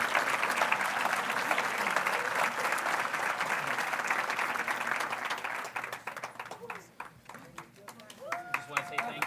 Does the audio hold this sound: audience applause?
yes